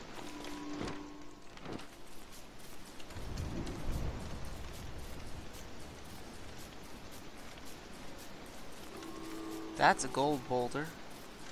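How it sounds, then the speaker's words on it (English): Steady rain hiss in the video game Don't Starve, continuous and soft behind game effects such as short tonal chimes and a low rumble, with someone talking over it. "And it's raining again"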